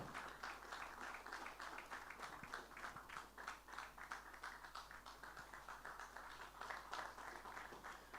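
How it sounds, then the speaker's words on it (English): A corporate awards ceremony at a JLL partner summit fills with steady audience clapping, a dense, even patter of many hands sustained throughout at low volume with no one speaking. "let's keep up the claps really, really loud"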